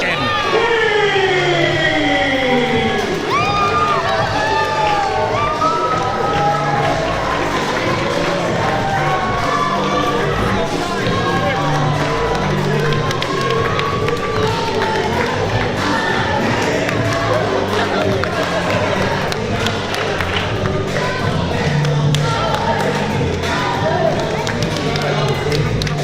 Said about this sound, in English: Listen to this raucous ovation.